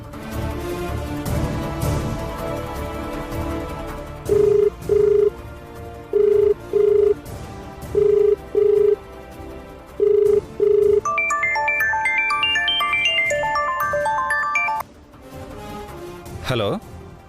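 An outgoing phone call rings back in repeated paired tones, four evenly spaced double rings over a background music bed, followed by a rising melodic musical flourish.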